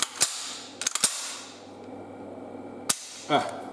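An SKS rifle, converted to smoothbore 366TKM, dry-clicks on an empty magazine: a few sharp metallic clicks and action snaps spaced across a few seconds, close and fairly crisp, with no voices.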